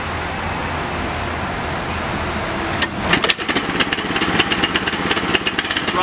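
A pull-start engine on a piece of lawn equipment sits quiet under a low hum, then catches with a sharp start and settles into a loud, rapid, pulsing idle close by.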